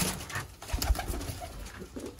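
Pigeons coo softly in a low, murmuring rhythm, close by at a pigeon-keeping place in Sialkot, with faint background rustling and no talking.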